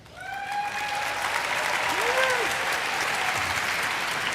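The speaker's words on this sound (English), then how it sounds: "So let's give an applause for Michael, who's coming up here." An audience at MINECON 2013, the Minecraft convention, breaks into sustained clapping during a panel, swelling quickly and holding steady, with a voice faintly heard beneath it.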